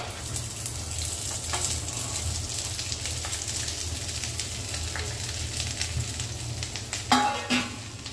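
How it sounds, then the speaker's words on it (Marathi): Corn kernels fry in oil in a wok whose tin lining is partly worn, set on a gas stove, giving a steady close sizzle with a low burner hum beneath and a few louder crackles and stirring scrapes near the end. "चला आता मका घालते कढईमध्ये."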